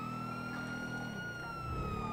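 Police car sirens wail through a city street, one steady high tone sliding slowly in pitch over a low rumble of traffic, moderately loud and nearby.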